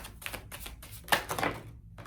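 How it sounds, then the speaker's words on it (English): Tarot cards being shuffled by hand, heard as a few short, crisp papery riffles and flicks in quick succession, close and fairly quiet, with no talking. "let's shuffle to choose the piles"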